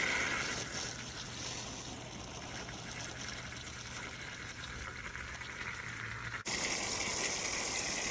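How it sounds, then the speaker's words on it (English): Water gushing out of opened valves on an Advantex septic system during cleaning, a steady rushing, bubbling flow close by that continues throughout, with a sharp change in tone near the end. "I will open these valves and flush out any biomass that's stuck in there."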